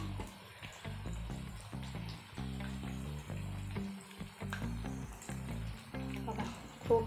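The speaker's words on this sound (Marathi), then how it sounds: "हे अशा प्रकारे सगळे वडे सोनेरी कलर येईपर्यंत आपल्याला तळून घ्यायचे आहेत।" Sabudana vadas deep-frying in hot oil give a steady close sizzle and bubbling, overlaid with rhythmic tonal background music and no speech.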